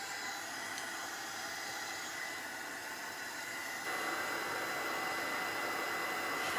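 Heat tool blowing hot air to dry very wet paint in a craft project, a steady loud whooshing roar that continues alone and grows slightly louder partway through.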